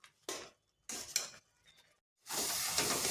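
Grated carrot fried in a pan is stirred with a utensil, giving short scraping bursts with sizzle, then a longer steady hiss of frying near the end, close and with no talk.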